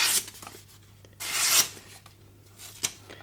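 A knife blade is drawn straight up a fine 8000 grit Kitayama whetstone in a single cut test, a close, dry rasping scrape in a few short strokes separated by quiet pauses, with no talking.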